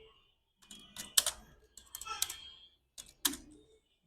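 Typing on a computer keyboard, a few quick clusters of close key clicks separated by short pauses, fairly soft, with no one speaking.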